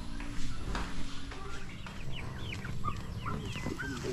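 Chickens cluck and squawk close by while being fed, with a busy overlapping chorus of short calls and farmyard rustling throughout, and a voice talking under them.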